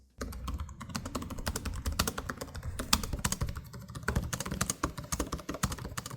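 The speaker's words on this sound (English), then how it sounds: "The ProArt's keys sound a little bit quieter" Steady, fast typing on an Asus laptop keyboard, a dense run of light clicky keystrokes close up, with no talking.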